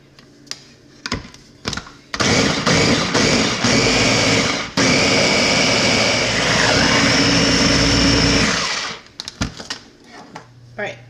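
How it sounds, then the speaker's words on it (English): A blender crushing a bag of fresh cranberries: a loud, continuous motor whir running for about seven seconds, with brief knocks and clatter before and after it. "we're gonna blend it until it's like slightly crushed, not fully pureed"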